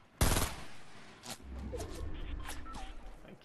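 A sharp gunshot in the Fortnite video game opens loudly, followed by scattered fainter shots and clattering game sounds trailing behind.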